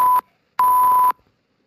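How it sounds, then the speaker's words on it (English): Two loud, sharp censor beeps at a single steady pitch cover a shouted word during a BAFTA awards broadcast, a short tone followed by a longer one, with nothing else heard between or after them. "the N-word, which we have beeped, was shouted out"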